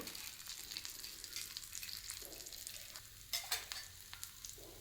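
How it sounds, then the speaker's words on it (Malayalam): A ghee roast dosa crisps on a hot pan in a mix of ghee and coconut oil, giving a faint, steady sizzle with a few louder crackling bursts as it is spread and stirred. "ഞാൻ നെയ്യും വെളിച്ചെണ്ണയും കൂടെ മിക്സ് ചെയ്താണ് ഇത് നമുക്ക് ഇതിൻ്റെ മുകളിലോട്ട് ഇങ്ങനെ ഒഴിച്ചു കൊടുക്കാം എല്ലായിടത്തും തൂത്ത് പരട്ടി നന്നായിട്ട് മൊരിച്ചെടുക്കണം"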